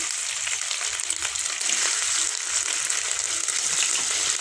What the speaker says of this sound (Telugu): కొంచెం పన్నీరు దూర దూర వేయించాలండి